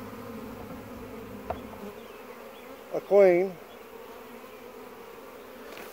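Honey bees from a weak laying worker hive hum steadily and softly, with a brief louder nearby buzz passing midway, while a voice speaks briefly.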